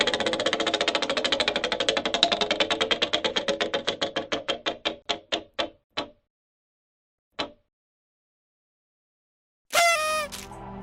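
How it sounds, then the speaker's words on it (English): A Final Jeopardy prize wheel spinning in a Disney Jeopardy quiz game, clicking rapidly at first, then slowing to sparse ticks before stopping, followed by a short bright musical sting. "it's time for the Final Jeopardy wheel spin to determine the last category of the day"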